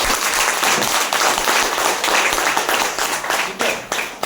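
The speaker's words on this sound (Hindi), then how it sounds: "तालियां हो जाए रफीक सर के लिए।" An audience claps for a guest at a leadership program, producing a dense, even burst of applause that holds steady for several seconds before thinning slightly at the end, with no talk over it.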